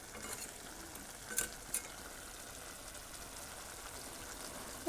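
A spoon works through pork curry with raw bamboo shoots and potatoes in a pan, quiet scraping and soft stirring over a faint background, with a couple of brief clinks and a sharp knock at the very end.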